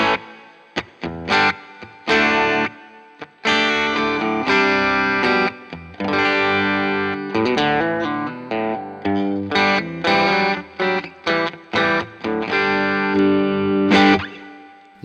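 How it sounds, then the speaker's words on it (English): Distorted electric guitar chords and picked notes played through a BOSS IR-2 hall reverb, with pauses between phrases, each note trailing off in a long, spacious hall-like reverb. "I always love a good hall reverb"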